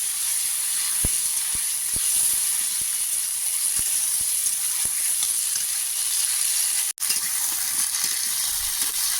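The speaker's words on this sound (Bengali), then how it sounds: "দিয়ে এবারে আমি কেটে রাখা আলু আর ঝিঙেটা দিয়ে দেব, দিয়ে এটাও আমি কিছুক্ষণ নাড়তে থাকবো।" Potato and ridge gourd pieces frying in mustard oil, a steady loud sizzle and hiss throughout with a few faint clicks of stirring, one brief dropout near the end.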